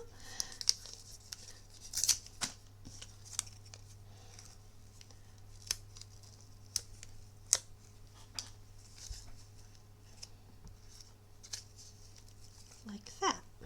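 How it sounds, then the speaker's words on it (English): Sharp, sporadic snips of scissors cutting paper, scattered one at a time over a quiet background hum. "Get the scissors, and I'm going to snip it before the edge of the card"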